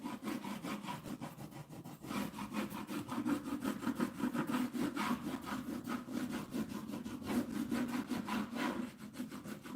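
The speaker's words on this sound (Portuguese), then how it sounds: "vou passar vela para facilitar para quando a gente for lixar" Wax candle rubbed steadily back and forth across a wooden door plaque shaped like a little house, a continuous close scraping friction with a quick even rhythm through the whole stretch.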